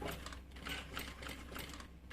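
Sewing machine stitching a seam along the top of a fabric trunk-style bag, a steady rapid mechanical patter running evenly throughout at moderate level.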